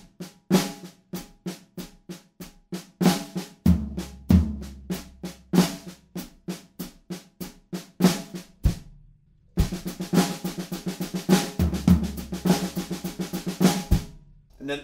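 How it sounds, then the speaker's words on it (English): Drum kit in the bridge of a song, two booming floor tom hits taking the place of the kick drums amid driving snare and cymbal strokes, loud and close, with a short pause before a fuller cymbal-heavy stretch. "we replace those 2 kick drums with 2 floor toms instead"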